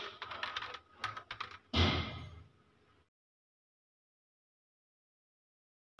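Keys clatter on a computer keyboard in quick bursts during document typing in Microsoft Word, close and fairly quiet, then a heavier thump before the sound stops and silence follows.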